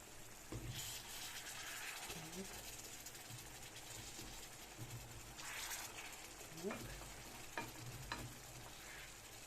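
Fish frying in a pan in a home kitchen, a steady sizzle with scrapes and clatter as the pieces are turned, a voice speaking briefly over it.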